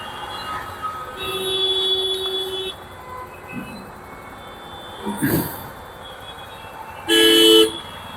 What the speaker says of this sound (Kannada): ಜನಗಳು ಹಾರನ್ ಹೊಡೆದಾಗ ಸಿಗ್ನಲ್ ಬಿಟ್ಟಿಲ್ಲ ಅಂದ್ರೆ ಹಾರನ್ ಹೊಡಿತಾರಲ್ಲ